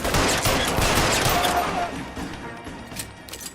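Rapid bursts of gunfire crackle densely in the video game L.A. Noire, loud at first and gradually thinning into scattered shots.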